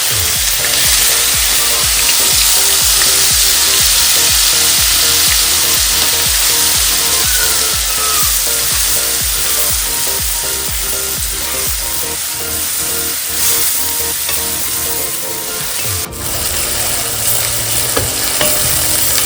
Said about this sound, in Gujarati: તો ડુંગળી આપણે હલકી બ્રાઉન થાય ત્યાં સુધી હલાવશું.